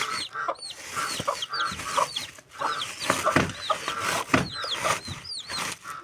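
An agitated hen clucking close by in a yard, with rapid, repeated high chirps from chicks scattered throughout and no voices.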